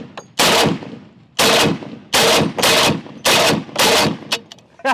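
An AK-50 large-calibre rifle fires five or six heavy, booming shots at roughly even intervals, each a loud blast with a short ringing tail, close and alone.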